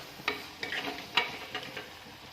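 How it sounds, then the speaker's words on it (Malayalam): Mustard seeds sizzling and popping in hot oil while tempering payar thoran, a soft crackle broken by several sharp pops at irregular intervals, close and fairly quiet. "അതിനുശേഷം നമുക്കൊന്ന് കടുകിട്ടൊന്ന് താളിച്ചൊഴിക്കാം"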